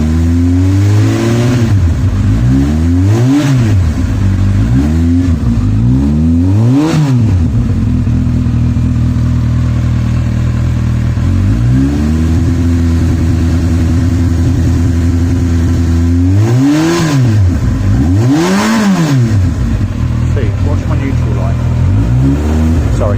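A Honda motorcycle engine rumbles loudly and close throughout, its pitch rising and falling in repeated revving swells as the throttle is worked, with someone talking over it.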